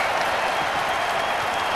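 Crowd applauding at a Syracuse Orange home basketball game against Pitt, with a dense, steady wash of clapping that fills the arena without letup.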